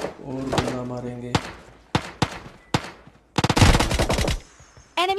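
Gunfire from the video game PUBG Lite: several sharp single shots ring out, then a rapid automatic burst lasting about a second, with another shot at the end. A voice is heard briefly at the start.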